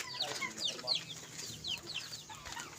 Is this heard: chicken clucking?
yes